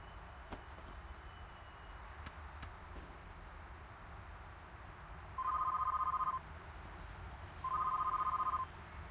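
Phone line tones in the Sam and Max adventure game, a few faint clicks early on, then two steady electronic tone bursts about a second long, separated by a short pause, over a low background hum.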